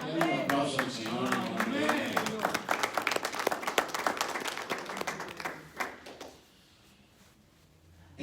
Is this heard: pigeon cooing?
no